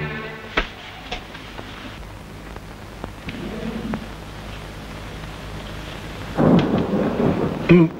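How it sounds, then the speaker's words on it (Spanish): Steady rain hisses throughout, with a few sharp cracks early on and a louder rumble of thunder swelling near the end. "Bueno, esto se suspende por lluvia."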